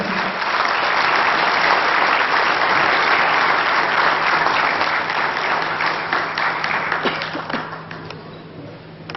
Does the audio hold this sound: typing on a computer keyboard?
no